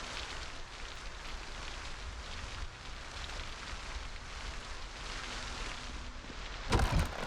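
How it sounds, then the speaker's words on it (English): Steady rain pours in Project Zomboid, a continuous dense hiss held at an even level throughout, with a brief louder rattle near the end. "This is a nice good rain."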